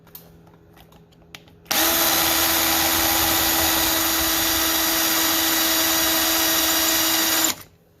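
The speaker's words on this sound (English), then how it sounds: "11/64 bit, drilled little tiny holes" A power drill with an 11/64 bit drilling small shallow holes on a Silverado during a rocker panel job, a loud, steady whine that starts abruptly and runs about six seconds before stopping, close up and alone.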